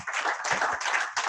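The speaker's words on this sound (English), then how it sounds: "So, big round of applause." A small seminar audience gives a round of applause, close and fairly loud, in short uneven bursts of hand clapping over about a second.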